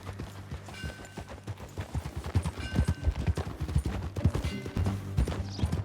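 Horse hooves clip-clopping at a steady riding pace in Red Dead Redemption 2, close and rhythmic with no talk over them.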